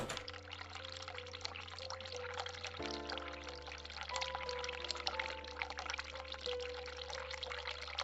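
Hot water pours from a sink tap in a dark adventure game, an even, unbroken splashing stream over a low hum and faint sustained music notes.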